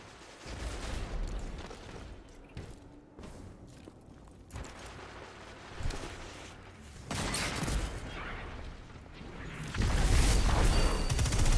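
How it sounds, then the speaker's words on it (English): Shotgun blasts and muffled battle noise in a first-person shooter, several heavy booms spread across a busy, fairly quiet background with a louder stretch of firing near the end. "This shotgun's range is ridiculous."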